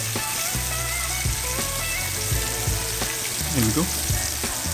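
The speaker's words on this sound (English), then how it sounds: "throwing a couple of tablespoons of butter into the pan, and then we got 3 cloves of fresh garlic that I'm gonna add to this" Lamb chops fry in a pan of melted butter with crushed fresh garlic cloves, a loud, continuous close sizzle with crackling pops, and someone speaks briefly over it.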